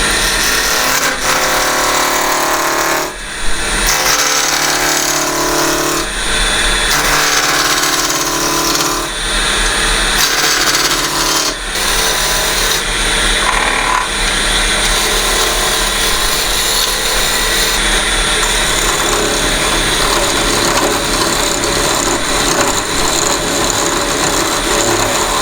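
Spindle blank spun on a wood lathe as a tenon is cut on one end for a turned wooden box, with steady loud tool-on-wood scraping and a continuous motor drone lasting throughout, briefly dipping a few times.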